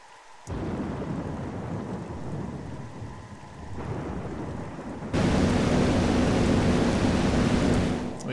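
A thunderstorm with lightning in the video game Metroid Prime: heavy rain hisses steadily under low rumbling thunder, then the downpour suddenly grows louder and fuller for the last few seconds.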